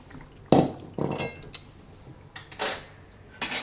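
Metal spoon clinks and scrapes against a pot while cooked parval kofta curry is lifted out, several separate clattering knocks with quiet gaps between them and no speech.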